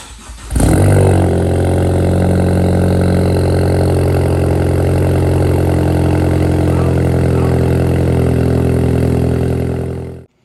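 Ford Focus ST engine with a high flow downpipe starting up and then idling with a deep, loud, steady drone that continues evenly before cutting off at the end.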